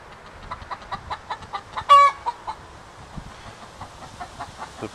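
Domestic chickens cluck in a steady series of short calls close by, with one louder, sharper squawk partway through and quieter clucking continuing afterward.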